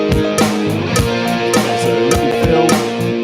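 A drum kit plays steady beats with cymbal crashes over the backing track of a song, loud and continuous for a few seconds.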